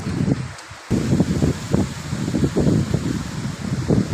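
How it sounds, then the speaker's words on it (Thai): Strong wind gusts through trees at a Buddhist temple site in Lampang, Thailand, with loud rushing leaves in uneven, surging bursts that drop briefly near the start, then return and roar on steadily. "เหมียวป่าอยู่กันยังไงเนาะลมพัดลมแรง"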